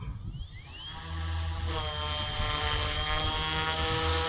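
A YU XIANG F08 Bell 206 RC helicopter spooling up, its rotor and motor whine climbing steadily in pitch and loudness into a sustained close buzz with a steady low rotor throb.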